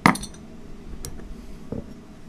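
Imperial stout beer poured from a big bottle into a glass, opening with a sharp glassy clink and a short bright splash, then a faint steady pour with a soft second knock near the end.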